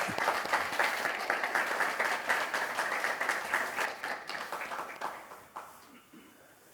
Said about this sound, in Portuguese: Uma salva de palmas aqui para mim